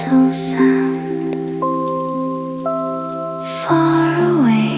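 Gentle rain patters steadily on surfaces at night, a soft continuous wash beneath sustained, slowly shifting synth tones that dominate the foreground.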